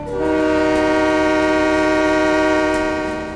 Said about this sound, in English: Let's just honk at least.